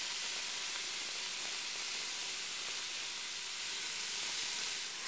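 Hamburger meat sizzling as it fries in a pan, a steady, even hiss with faint crackle, continuous and fairly quiet with no talking.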